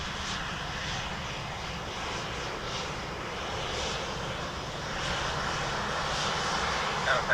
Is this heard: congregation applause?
no